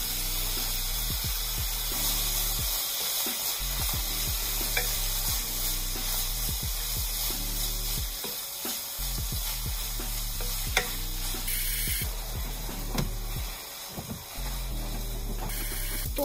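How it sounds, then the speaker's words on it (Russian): Meat fries in a hot pan for a Dungan funchoza dish, giving a loud, steady sizzle, while a utensil stirs it and scrapes and knocks against the pan again and again. No one speaks. "Опускаем мясо, жарим до готовности, примерно 10-12 минут, постоянно перемешивая,"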